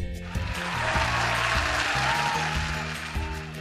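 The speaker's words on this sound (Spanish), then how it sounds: "Aplausos para Betsy." Applause for a student on a radio school program plays as a steady wash of clapping, mixed with a bed of sustained musical tones that shift every half second or so, with no speech.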